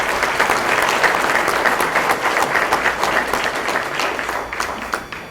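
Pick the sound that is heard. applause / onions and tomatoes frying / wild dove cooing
applause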